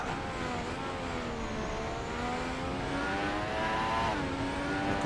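Formula 1 race car engine in the Formula 1 2016 video game, a steady high-pitched whine that climbs through the gears, drops briefly around a shift and rises again, loud and continuous with no talk.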